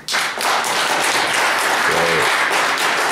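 A comedy club audience bursts into loud, sustained applause at a stand-up show, dense clapping close by with a brief voice or whoop cutting through midway.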